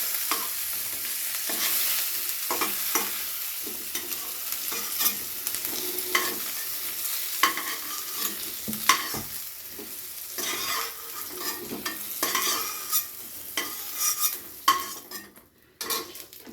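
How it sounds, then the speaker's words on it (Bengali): Pointed gourd and potato pieces fry in a pan without turmeric and are stirred continuously. A close, steady sizzle runs under repeated scraping utensil strokes, with no one talking. "তো পটল আর আলু দুটোই কিন্তু ভেজে আমার নেওয়া হয়ে গেল।"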